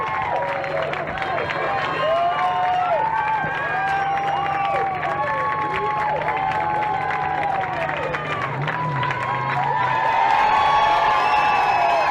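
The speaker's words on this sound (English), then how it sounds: "I ask you to join me with an enthusiastic round of applause as we welcome John Singleton to the Hollywood Walk of Fame" An outdoor crowd at the Hollywood Walk of Fame star ceremony for John Singleton keeps up steady applause and cheering, with whoops and shouted voices over the clapping, loud and continuous throughout.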